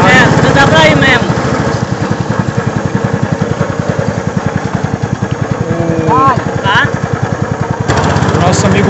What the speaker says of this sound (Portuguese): A gente já tá aqui na embarcação, o motor já foi ligado.